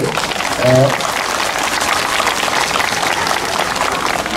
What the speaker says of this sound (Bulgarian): Искам да чуя и вашите аплодисменти за тях